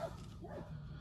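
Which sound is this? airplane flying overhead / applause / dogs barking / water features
dogs barking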